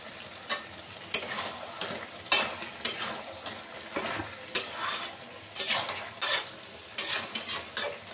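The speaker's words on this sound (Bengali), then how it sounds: "এবার ভাজা হবে। তারপর তেজপাতা দিয়ে দিই।" Mutton in masala with bay leaves fries in a pot, a steady sizzle broken by repeated close scrapes and clanks of a spoon stirring against the metal, with no talk.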